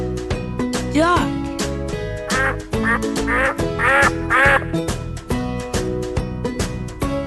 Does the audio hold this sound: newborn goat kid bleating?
no